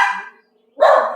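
A dog barks outdoors, one loud bark at the start and another after a brief pause, both near and clear with nothing else around them.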